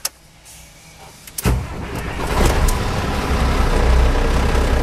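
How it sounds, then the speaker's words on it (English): A truck's engine cranks with a short whir at about one and a half seconds, catches and settles into a loud, steady low rumble, close by, during an air brake inspection demonstration. "Start the truck."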